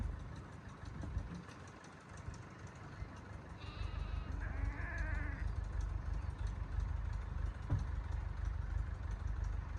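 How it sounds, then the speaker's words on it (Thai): Small goat kids bleat briefly, thin and wavering, over a steady engine drone that fills the background. "แพะน่ารักมากเลยทุกคนเห็นไหมคะตัวเล็กๆ"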